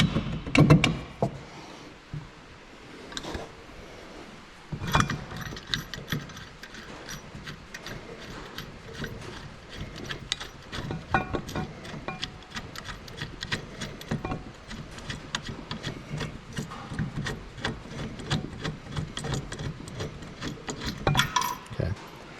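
Ratchet wrench working a brake bolt loose on a Nissan 300ZX Z31 during a big brake kit install, with rapid clicking pawl strokes in irregular bursts and metallic clanks, close up and without talk.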